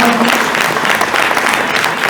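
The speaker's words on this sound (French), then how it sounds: "Vous pouvez vous applaudir très fort, les copains, quand ils ont leur coupe." Loud, dense crowd applause fills an awards ceremony at a national rally in Normandy as crews receive their trophies, steady and close throughout.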